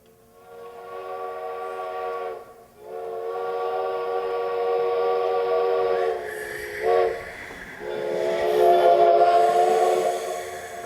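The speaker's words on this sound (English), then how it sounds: "There's the train, traveling fast all right." A fast-moving train in a radio drama effect, with a loud, sustained steam whistle blowing in long sustained blasts broken by brief gaps, set over a rushing rail rumble.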